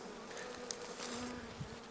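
Honey bees buzz faintly inside a hive box during spring unwrapping, with only a couple of weak bees left alive at one end, giving a soft, continuous hum with occasional brief louder passes.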